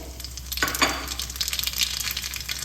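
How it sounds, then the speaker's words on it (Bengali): Two cut dried red chillies and half a spoon of black cumin hit hot oil for tempering, bursting into sharp crackling spatters over a steady sizzle with a low hum beneath. "গরম তেলে ফোড়ন দিয়ে দিচ্ছি, দুটো শুকনো লঙ্কা কেটে দিলাম, হাফ চামচ কালো জিরে"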